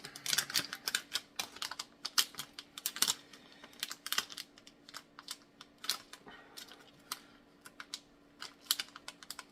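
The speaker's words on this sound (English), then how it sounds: "I'm trying to get into the packaging" Small parts being pulled out of sealed packaging, a dense run of crinkling, snapping and tapping clicks close by, quick and irregular, with no voices.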